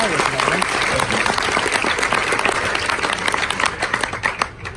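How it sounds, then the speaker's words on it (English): Audience applause for veterans at a Fort Benning infantry graduation ceremony, a loud, dense, sustained clapping from a large crowd that thins slightly toward the end. "please join us in a round of applause for these veterans"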